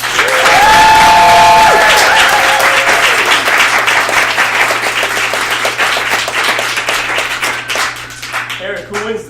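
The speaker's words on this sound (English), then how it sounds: "you believe Stephanie Weber was the winner in this debate, please clap now." Debate audience applauding the winner, opening with a burst of cheers and whistles over heavy clapping that thins into steady, gradually fading handclaps, with a few voices near the end.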